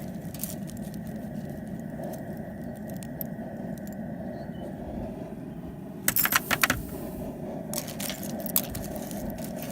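Scrap lead pieces drop into a plastic bucket in a few short bursts of clattering, jangly clicks over a low background hum.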